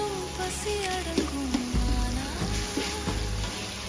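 Ginger and garlic sautéing in a pan, a steady close sizzle and crackle with occasional stirring scrapes and taps throughout.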